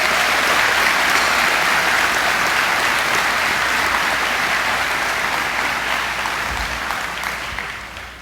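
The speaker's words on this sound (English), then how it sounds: "I believe this class deserves a round of applause" Dense, sustained applause from a crowd at a high school graduation ceremony, loud and even throughout before slowly fading toward the end.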